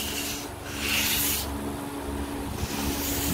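Hand sanding block rubbed across the ridges and details of a plastic rear bumper for a Ford Mustang Foxbody Cobra, soft rhythmic scratchy strokes, fairly quiet.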